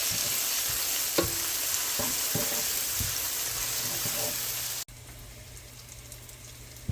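Onions frying in a pot for jambalaya give a steady wash of sizzle with a few scattered clinks and stirs, moderately close, then cut abruptly to a quieter low hum near the end.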